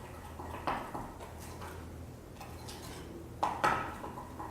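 A spoon scrapes and clinks against a mug while gluten-free strawberry mug cake batter with sour milk is stirred, a few separate taps over a low background hum.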